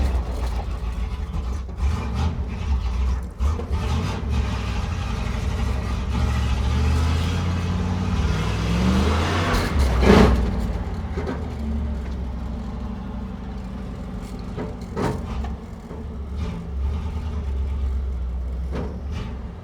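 A Pontiac Firebird driving for the first time in decades with a missing sway bar end link, its engine droning steadily up close with a louder surge partway through and faint rattling knocks.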